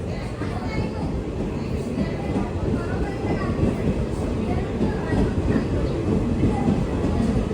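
Guntur–Kacheguda Express passenger train in motion, a steady loud rumble with faint rhythmic wheel clatter heard from on board, with voices talking over it.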